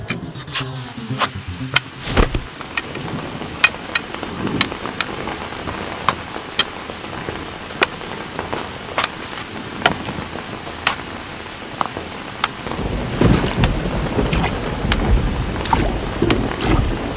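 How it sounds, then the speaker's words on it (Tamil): Rain falling steadily outdoors, a dense hiss of drops and scattered sharp patters spread across the whole stretch, heavier toward the end, with no voices. "நீங்க சொன்ன மாதிரியே மழை பெய்யுதுப்பா"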